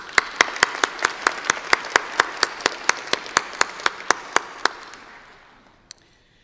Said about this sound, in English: One more round of applause for Stephen